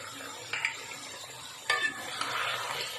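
Spoon stirring tomatoes and salt into mutton pulao in a pot, with soft scraping, clinks against the metal and a gentle sizzle underneath, close by.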